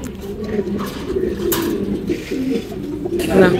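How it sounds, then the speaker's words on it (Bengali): Pigeons coo steadily in a racing pigeon loft, low rolling calls repeating close by through the whole stretch, with faint background noise. "আলহামদুলিল্লাহ আমার কবুতরটা চলে আসছে"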